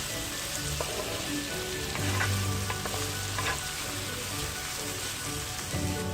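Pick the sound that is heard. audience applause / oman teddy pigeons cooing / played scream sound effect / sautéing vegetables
sautéing vegetables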